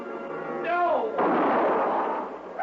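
A gunshot sound effect in an old-time radio detective drama set near a rock pile and rattlesnake pit gives a sharp burst followed by a rough, echoing rumble, following a brief vocal sound.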